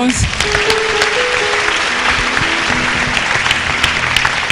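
A church congregation breaks into loud, sustained applause for Jesus, a dense wash of clapping with voices mixed in, close and continuous throughout.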